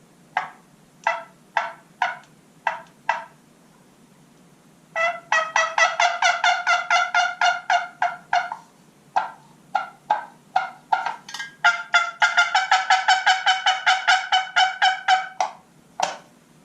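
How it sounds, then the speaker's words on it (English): A homemade wooden box turkey call gives sharp clucks, first spaced singly, then rapid runs of raspy yelps, loud and close against a faint background hum. "let's give a little cluck here."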